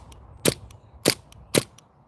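An HPA-powered airsoft gun fitted with an SSQ adaptor fires three sharp, snappy BB shots at an even pace of roughly half a second apart, close by, with faint quiet in between.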